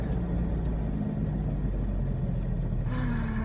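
A car rolls along a rough, poorly maintained road, its steady low rumble close and continuous from inside the cabin, with no voices.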